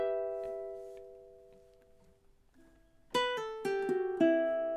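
A ukulele plays measure 30 of a song, a few ringing plucked notes that decay, then a quicker run of bright picked notes. The playing is close, soft and unaccompanied.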